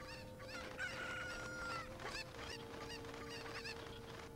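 Chickens cluck and squawk in Ocarina of Time Master Quest, a steady run of short repeated calls over a sustained game tone, fairly faint and without talk.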